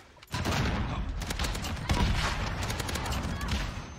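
Heavy game gunfire and explosive tank cannon blasts in Call of Duty Modern Warfare multiplayer, a dense continuous barrage with sharp impacts, loud and close, with a voice faintly under the noise.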